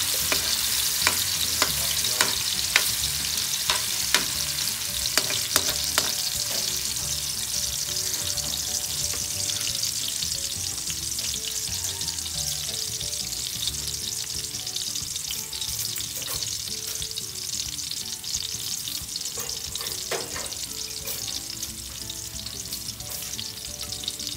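Garlic frying in a pan for a quick corned beef spaghetti, a steady close sizzle with occasional stirring clicks and scrapes throughout, alone without talk.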